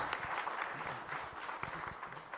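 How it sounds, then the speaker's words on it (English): Audience applause at a pharmaceutical industry panel discussion at a congress, honoring a panelist; steady, fairly soft clapping from a crowd that holds throughout. "Huge round of applause for Ramani ji."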